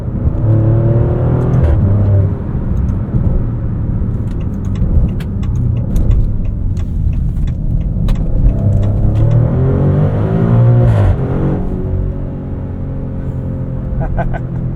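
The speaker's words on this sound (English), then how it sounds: "That exhaust might get a little bit old for your neighbors after a certain point" A 2023 Maserati Grecale Trofeo SUV accelerates on the road, its exhaust rising in a strong rumbling growl with shifting pitch heard from inside the cabin, loud and continuous, with someone talking over it.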